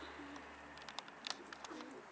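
Pigeons coo softly in the distance against a quiet, steady background hum, with a few faint flutters and clicks.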